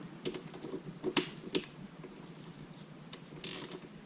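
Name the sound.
ratchet loosening a nut on a Porsche 944S engine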